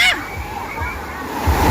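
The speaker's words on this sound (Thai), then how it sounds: "น้ำไหลไปนะเฮ้ย" Water rushes and sloshes steadily close by at a river bathing spot, with people talking in Thai over the flowing sound.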